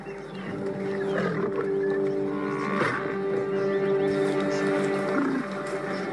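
Lions roar in the wild, deep and sustained across the whole stretch alongside other animal sounds, with rough layered calls rising and falling at a steady, fairly loud level.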